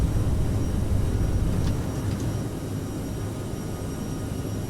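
CRJ airliner taking off in Microsoft Flight Simulator 2020, a loud, steady engine roar with heavy low rumble that eases slightly partway through, no talking.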